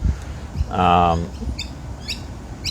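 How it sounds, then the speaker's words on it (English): Birds outdoors give a brief squawking call followed by a few faint, scattered chirps at a distance, with a quiet background. "Being surrounded by birds."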